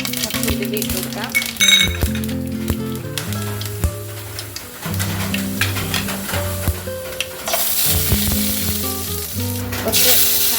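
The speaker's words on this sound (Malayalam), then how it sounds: "കടുക് പൊട്ടിക്കുമ്പോൾ കുറച്ച് ഉലുവ ഇട്ട് കൊടുക്കാം." Fenugreek seeds are tossed into popping mustard seeds in hot oil for a fish curry, giving a constant crackling sizzle with stirring, set against steady background music.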